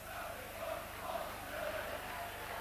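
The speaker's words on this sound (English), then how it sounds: "Big crowd, good atmosphere, superb day." A big crowd at a Castleford rugby league match, a steady distant wash of murmuring and cheering that fills the whole moment without clear individual voices.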